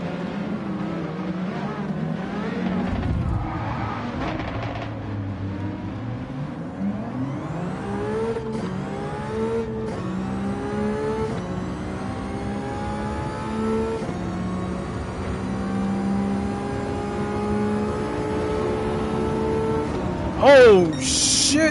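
A Gran Turismo 7 race car on Grand Valley revs hard and climbs through the gears, the engine pitch rising in repeated sweeps between shifts, loud and close throughout, ending with a brief sharp squeal near the finish.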